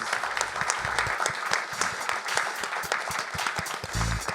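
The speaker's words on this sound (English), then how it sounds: "So everybody in the audience, if you would give a round of applause" An audience at a panel talk on media and the creator economy gives a round of applause, a dense burst of close clapping that carries on steadily.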